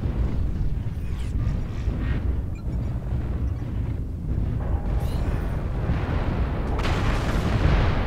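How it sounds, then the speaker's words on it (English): Artillery strike in a video game: a continuous rumbling wash of distant booms and blasts, with sharper bursts cutting through around the middle and toward the end. "Target spotted. New target acquired. Artillery strike online."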